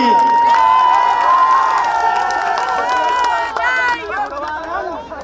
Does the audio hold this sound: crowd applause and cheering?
yes